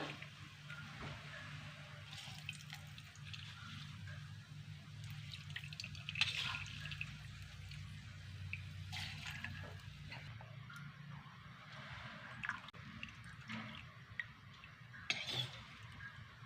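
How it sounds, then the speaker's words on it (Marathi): Homemade hair oil being strained, giving soft drips and trickles of liquid with light clinks of a pot and utensil, steady and close with no talking. "आता हे तेल गाळून घ्यायचं आहे"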